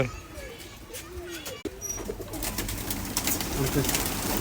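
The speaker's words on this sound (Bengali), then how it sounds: "আমি কবুতরগুলো ছেড়ে দিলাম সব কবুতর আস্তে আস্তে বের হচ্ছে" Pigeons coo softly close by as they are released and slowly come out, with a rustle of wings and birds stirring as they move about, and a voice speaking over them.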